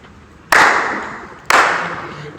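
Two sharp, loud claps land about a second apart, each one ringing off in a reverberant room, from a church congregation clapping along to a worship song.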